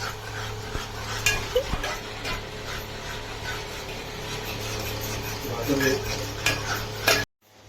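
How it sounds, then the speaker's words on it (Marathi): A spoon stirs a cumin-spiced mixture in a pan, scraping and clinking against metal over a low sizzle, with a few sharp knocks and faint voices in the background before an abrupt cut to silence. "आता हलवून घेते"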